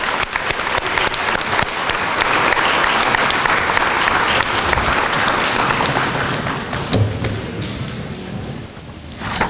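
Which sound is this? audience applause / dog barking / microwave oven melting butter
audience applause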